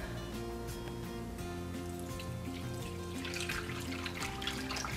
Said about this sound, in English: So I'm going to slowly pour this in.